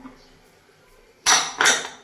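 Two quick metallic clanks of a lid settling onto a cooking pot, close by, the second following a beat after the first.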